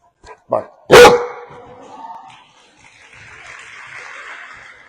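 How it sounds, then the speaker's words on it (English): A service dog from a 4 Paws for Ability event gives one sharp, close bark on command after a couple of small clicks, followed by quiet outdoor noise. "Can you bark?"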